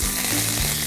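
Fennel and fenugreek seeds, with crushed cardamoms, splutter and crackle in hot oil, a steady, close, dense sizzle that runs unbroken for a brief moment with no voices.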